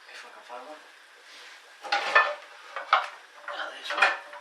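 Metal cookware clanks and clatters in three bursts as pots are shifted around while a frying pan is pulled out, with quieter rummaging and faint voices between.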